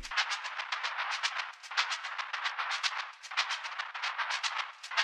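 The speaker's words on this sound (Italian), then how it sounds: "Infine abbiamo un loop di percussione che sente poco" A percussion loop from a hip-hop beat, half-timed to swing in triplets: a dense run of crisp, bright hits in quick regular rhythm, steady and fairly loud throughout with no voices.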